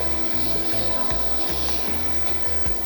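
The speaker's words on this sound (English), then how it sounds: "I'm gonna saute them for a little bit" Bell peppers and celery sautéing in a pan for seafood gumbo, a steady close sizzle and hiss running continuously with a low rhythmic hum underneath.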